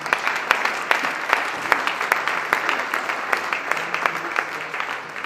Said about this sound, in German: Ein extra Applaus für diese harte Zeit.